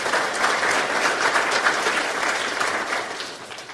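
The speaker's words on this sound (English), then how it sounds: "So a round of applause, please, for our partners on this." An audience at a Kansas City safety seminar claps steadily for a few seconds, a full, even round of applause that gradually fades toward the end.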